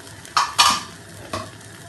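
Homemade red pepper seasoning fries in table oil in a pan while being stirred, giving three short, close, loud sizzling scrapes spaced apart over low background hiss.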